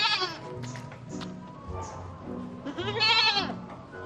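A goat bleats in several wavering, nasal calls, fairly close and loud, with the longest cry near the end.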